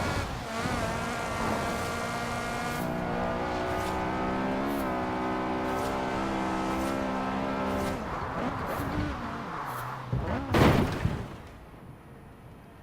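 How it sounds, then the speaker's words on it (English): A Honda car engine in the Forza Horizon 4 racing game revs hard and climbs in pitch as VTEC engages, with gear shifts and a dense, continuous engine note throughout. "have a look to see when the VTEC kicks in now"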